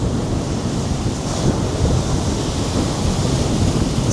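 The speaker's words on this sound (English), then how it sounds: "you're getting all these really big swirly waves" Big swirling waves churn and crash under strong gusting wind on a very windy day, a loud, continuous roar of surf and wind buffeting close to the microphone with no pauses.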